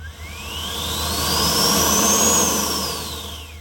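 An EDF model jet engine spools up under throttle from a radio transmitter, a loud close whine climbing steadily in pitch, peaking, then winding back down over a few seconds, with no other sound.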